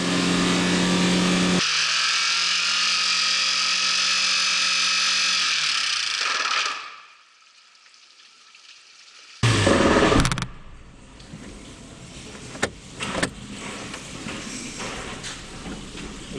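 A car engine held at high revs, around 4000 rpm, with water being poured into an intake that has no snorkel; a loud steady roar abruptly winds down and stops, followed by quieter clatter and knocks.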